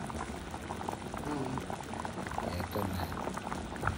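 Beef and cassava broth, sautéed with chili, tomato, onion, ginger and garlic, boils steadily in a pot with a dense, continuous bubbling simmer; a voice briefly speaks over it.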